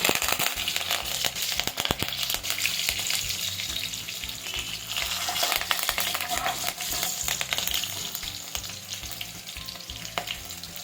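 Green chillies and curry leaves frying in hot oil, a continuous loud sizzle with crackling spatter and occasional stirring scrapes, close up and without talk.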